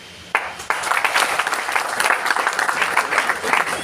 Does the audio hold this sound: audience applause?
yes